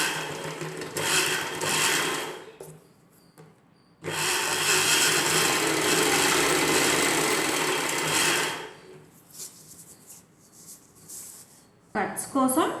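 A sewing machine stitching the lining of an umbrella dress runs in two bursts, a short one and a long steady whir of several seconds, with a brief restart at the end; someone talks between the runs.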